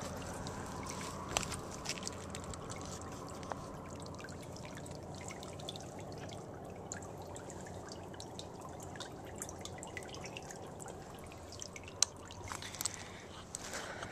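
Excess water from a full pond trickles out into a ditch in January, a faint, steady outdoor dribble with a few small drips and splashes running the whole way through.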